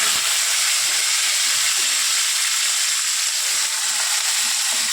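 Boiled potatoes dropped into hot oil with cumin seeds sizzle in a steady, loud, continuous hiss with no breaks for the full stretch.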